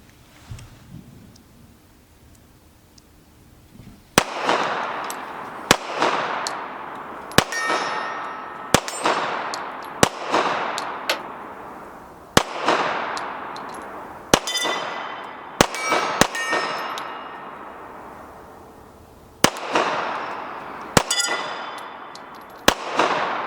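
An STI Apero .45 ACP 2011 pistol fires Tula ammunition at steel targets outdoors, loud sharp shots spaced about a second apart, each followed by a ringing metallic clang and echo, no talking.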